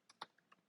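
Notes being typed on a computer keyboard: a handful of quiet, separate keystrokes tapped at an uneven pace, close but faint, ending on a sharper click.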